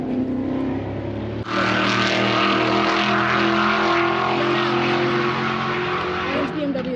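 Race cars, including a Miata, roar past on a track. A sustained engine drone swells sharply after the first second and stays loud, with shifting pitch as the cars pass. A voice talks over it.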